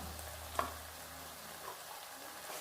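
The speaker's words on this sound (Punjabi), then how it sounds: "ਜਿਹੜਾ ਮਸਾਲਾ ਆਪਣਾ ਥੱਲੇ ਨਾ ਲੱਗੇ ਇਸ ਕਰਕੇ ਆਪਾਂ ਇਹਨੂੰ ਨਾਲ ਨਾਲ ਹਲਾਉਂਦੇ ਜਾਵਾਂਗੇ" Meat masala roasts in a pot while being stirred, a faint, steady low sizzle with a light clink of the spoon, close but quiet, with no voices.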